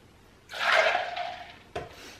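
Cold water poured into a NutriBullet blender cup, a short splashing rush of about a second that tapers off, followed by a brief clunk.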